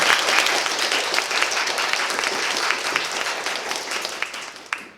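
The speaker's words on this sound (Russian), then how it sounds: "ваши аплодисменты" An audience at a young scientists' science slam applauds, dense sustained clapping from a full hall that slowly thins toward the end.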